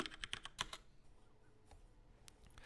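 Typing a terminal command on a computer keyboard: a quick run of crisp, close keystrokes in the first second, then sparse faint taps against a quiet background.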